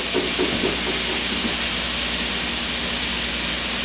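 Salisbury steaks frying in a large skillet, a steady, even sizzle and hiss that fills the whole stretch without pause, close and moderately loud.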